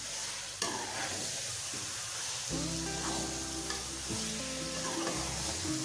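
Carrot halwa cooking in a pan with dry fruits such as almonds, pistachios, walnuts and cashews, a steady close sizzle with scraping spoon strokes as it is stirred, no voices.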